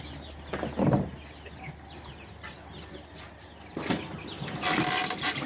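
Young Ayam Cemani chicks and chickens give brief clucks and a few high chirps in a coop, with rustling and handling noises between them. The calls are sparse, fairly close and not continuous.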